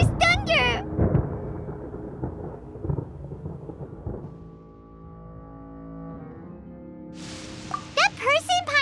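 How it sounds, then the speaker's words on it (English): Thunder rumbles from a storm in the video game Genshin Impact, with low rolling booms through the first half that fade into a sustained drone. Voices speak at the start and again near the end. "Paimon hears thunder!"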